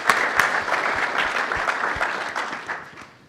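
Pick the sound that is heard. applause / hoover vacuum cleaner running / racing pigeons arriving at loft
applause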